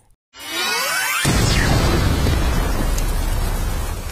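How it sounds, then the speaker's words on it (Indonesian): Huge explosion in an animated story, a sudden loud blast after a brief whooshing rise, followed by a dense roaring rumble that lingers and slowly fades, with no voices. "terjadi ledakan yang sangat dahsyat di samping pria itu"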